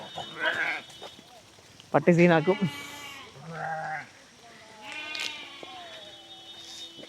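A large herd of goats passing through a village near Cumbum, Tamil Nadu, gives several wavering bleats at close and middle distance, mixed with people talking.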